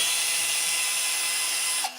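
A handheld electric drill motor whirs steadily and close by with a bright, high-pitched hum, then cuts off abruptly near the end.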